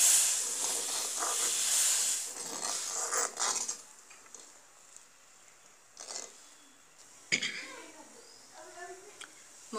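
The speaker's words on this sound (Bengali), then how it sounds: "দুধটা জাল হচ্ছে, আমরা এখানে 8-9 মিনিটের মতো দুধটা জাল দিয়ে একটু ঘন করে নিব" Milk simmers and thickens in a pan for raisin and cashew payesh, starting with a loud steamy hiss that soon fades to a quieter bubbling, with occasional clinks of the pan and a voice talking.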